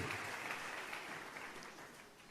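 A church congregation applauds Jesus, a soft, distant, steady wash of clapping that fades slightly toward the end.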